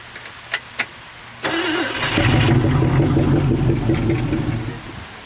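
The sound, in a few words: Mercury big block car engine cranking and starting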